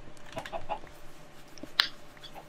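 A few quiet, short chicken clucks sound close by in Minecraft over faint background noise, with one sharper click near the end.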